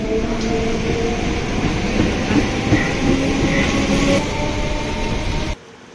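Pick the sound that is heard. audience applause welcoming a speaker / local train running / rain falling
local train running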